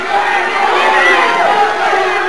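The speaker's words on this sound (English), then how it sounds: "Crowd yelling, Bruiser, Bruiser, Bruiser." A 1982 wrestling arena crowd yells and chants for Bruiser during Ric Flair versus Art Crews, a loud continuous mass of rhythmic shouting voices filling the hall.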